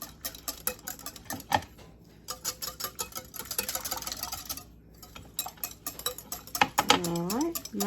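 A spoon scrapes and clinks against a bowl as food-prep ingredients with yogurt are stirred together, in quick irregular ticks and taps close up, with a voice speaking briefly near the end.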